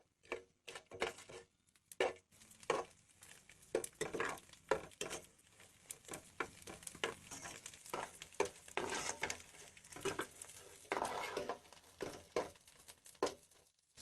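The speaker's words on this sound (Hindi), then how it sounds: "100 ग्राम गोंद लेंगे यानी चीड़ लेंगे। इसको हम फ्राई करेंगे।" Edible gum (gond) frying in a pan on low to medium heat, a steady soft sizzle with repeated clinks and scrapes of a spoon stirring, close and moderately loud, no talk.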